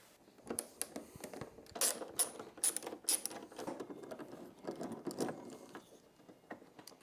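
Outer fairing screws are being unscrewed on a 2024 Harley-Davidson Road Glide, producing close, irregular ratcheting clicks and metallic ticks in short bursts, with no talking.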